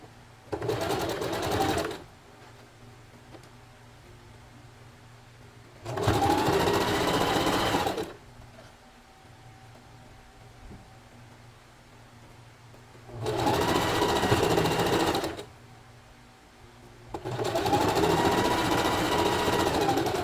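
A sewing machine stitches lace onto a bralette in four loud, rapid bursts of a couple of seconds each, separated by quiet pauses, heard up close.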